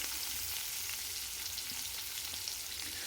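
Onions fry in a pan for a beetroot and chickpea curry, giving a continuous, even hiss of sizzling oil that is close and steady, with faint stirring scrapes and no voices.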